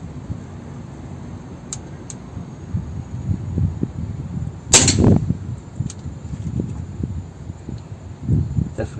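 An Umarex Legends Luger P-08 CO2 air pistol fires a single sharp, loud shot at a 16-yard target midway through, with quiet handling noise before and after.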